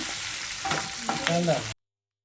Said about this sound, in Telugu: ఇంకా ఈ తాలింపులో మనం మిక్సీ పట్టుకున్న కొత్తిమీర చింతపండు ఆల్ మసాలాలు వేసి పట్టుకున్నాం కదా ఇంకా అది వేసేసుకున్నామంటే